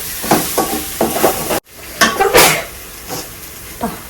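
Spices fry in hot oil in a pan for kurma, with bursts of sizzling and crackling alongside the scrape and clink of stirring against the pan, all close and fairly loud.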